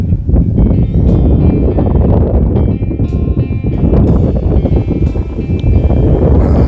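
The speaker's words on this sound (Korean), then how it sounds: "바람도 한 번씩 간혹 불어오는데 좀 시끄럽습니다. 바람 소리가." Steady, loud wind buffeting the microphone, a continuous low rumble with rustling gusts throughout and no pauses.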